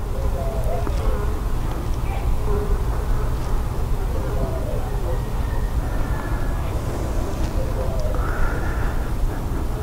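A steady, dense buzzing of many honey bees fills the scene continuously, close by during a hive inspection, with a low rumble underneath.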